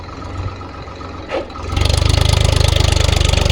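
A village tractor hauling cement idles quietly before its engine kicks in loudly partway through, settling into a fast, heavy, evenly pulsing diesel chug close by, with no talk.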